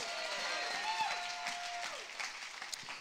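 A church congregation claps during a lively service, the clapping fairly faint and scattered beneath sustained music tones and some crowd voices.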